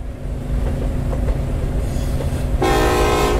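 A subway train in the Metro Sim Hustle game rumbles along with a steady clatter, then its horn blasts loud and sustained near the end, close and alone.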